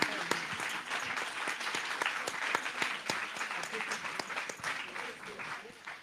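Audience applause at a literary festival tribute to Maryse Condé, a steady moderate round of clapping with sharp individual claps standing out, continuing throughout.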